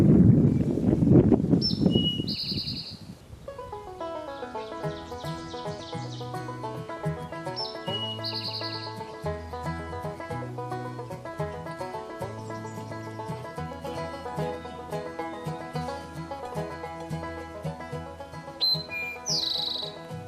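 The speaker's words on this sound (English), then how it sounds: "the rufous-sided towhee, as he heralds in the spring from his brushy confines with his joyful call" A rufous-sided towhee calls in spring from brushy cover. Brief bright chirps come at intervals, fairly faint over continuous background music.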